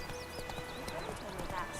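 Roach, a horse in the video game Witcher 3, clip-clops in a quick galloping rhythm beneath game music and a faint whinny, with voices speaking over it.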